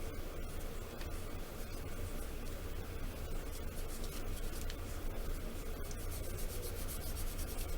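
Continuous close scratchy rubbing of sandpaper across seams on a plastic AMT Star Trek Klingon and Romulan D7 battle cruiser model kit, a steady rasp with quick back-and-forth strokes and no talk.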